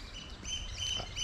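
Small birds chirping in a forest on the Isle of Bute, Scotland, giving a few faint high tweets over a steady outdoor background rumble.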